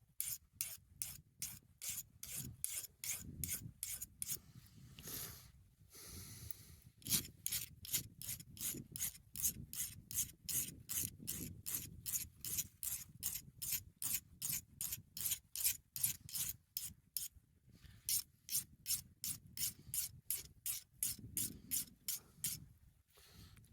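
A magnesium fire starter rod is scraped to strip its coating, producing a long series of crisp, evenly spaced rasping strokes, fairly quiet and close, with a few short pauses and no talking.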